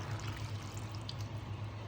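Broth or water poured over sea bream with potatoes and vegetables in a pan, a steady close liquid stream with trickling and splashing under a low hum, no voices.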